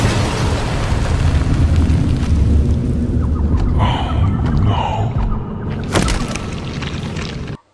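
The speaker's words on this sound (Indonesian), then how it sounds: "terjadilah sebuah ledakan di area safe haven" Explosion in the Safe Haven area of the video game Poppy Playtime Chapter 4, a heavy rumbling blast sustained for several seconds with debris-like crackles and a sharp burst toward the end.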